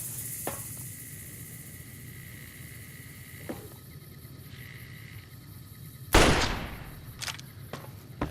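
Pistol shots in Fallout New Vegas, a few sharp cracks, one loud close shot standing out near the end over quiet game ambience.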